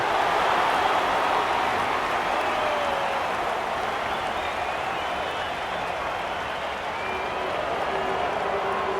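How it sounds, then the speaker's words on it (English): Broad, sustained roar of a large crowd at an AFL football match between Port Adelaide Power and Sydney Swans, a continuous loud wash of cheering and noise with no breaks. "The crowd noise tells you all you need to know."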